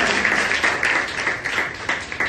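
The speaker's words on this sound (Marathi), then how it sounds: "जोरात टाळ्या तर वाजवा" A church congregation claps together during a live service, loud and fairly rhythmic with regular beat-like accents, continuous and close, with no speech over it.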